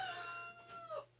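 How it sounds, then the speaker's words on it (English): Turkeys call from outdoors, drawn-out gobbling and yelping tones rising and falling over about a second, faint and somewhat distant above low background hum, with no one talking. "old turkey birds are doing their thing"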